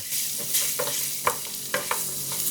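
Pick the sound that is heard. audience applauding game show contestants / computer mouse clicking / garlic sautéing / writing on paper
garlic sautéing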